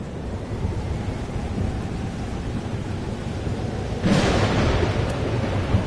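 A thunderstorm rumbles in the Life Is Strange: Double Exposure video game as steady rain and wind hiss in the background, then a sharp thunderclap bursts in about two-thirds through and rolls on.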